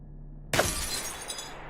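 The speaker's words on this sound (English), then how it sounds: "Got hit by flying glass" A pane of glass shatters in the game Stalker, a sudden loud crash with a short trail of tinkling debris after a quiet lead-in.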